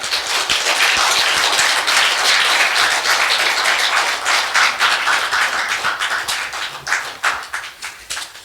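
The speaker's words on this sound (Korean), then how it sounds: "뜨거운 박수로 단상으로 모시겠습니다" A lecture-hall audience at a special lecture applauds warmly to welcome Dr. Kim Sung-soo to the podium. The clapping is loud, dense and sustained, then slowly thins out into scattered claps.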